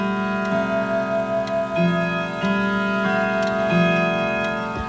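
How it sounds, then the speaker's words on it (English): Grandfather clock in a clock shop during a daylight saving time event, sounding steady tonal chiming with sustained ringing harmonics over a continuous backdrop, near and fairly loud, no talk. "Once it finishes chiming, then you can continue forward."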